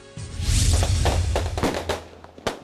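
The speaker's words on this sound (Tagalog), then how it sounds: "Pasiklaban ang mga taga-Tondo, Maynila sa dami ng paputok para sa pagsalubong ng bagong taon." Firecrackers bang in a dense series at a New Year celebration in Tondo, Manila, sharp pops and cracks overlapping loudly, with a few distinct louder bursts near the end.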